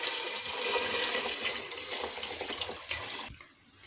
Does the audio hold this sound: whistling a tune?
no